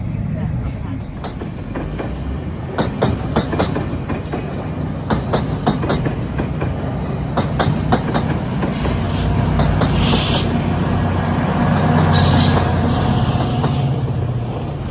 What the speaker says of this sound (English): Soon after, another Oshawa train comes.